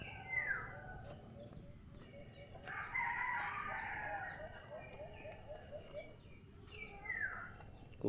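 A rooster crows a few times at moderate distance over a busy outdoor background, with chickens clucking and voices talking now and then.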